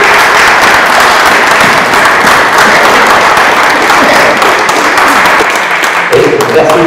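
Loud, sustained applause fills a room as an audience at a French business day event claps for an honoree, dense clapping throughout with a few heavier thumps near the end.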